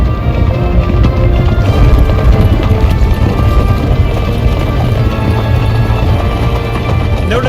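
Hooves of horses clip-clop in the medieval video game Kingdom Come Deliverance 2, a busy rhythmic patter mixed with a low rumbling background that keeps a constant level throughout.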